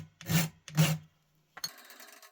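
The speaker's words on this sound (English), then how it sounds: "I'm just going to file it down to its shape." A metal spring held in a vise is filed to shape during repair of an antique Cooper pepperbox pistol. Two close, dry rasping strokes are followed by a pause, then a lighter scraping rustle.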